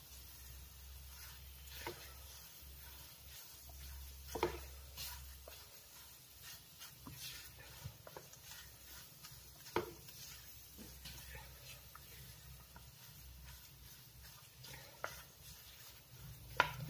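Khoya being stirred and roasted in a pan for pea halwa gives a quiet, steady hiss with faint scraping and occasional soft clinks from the spoon.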